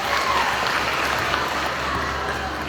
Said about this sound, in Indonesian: Boleh tepuk tangan dulu dong.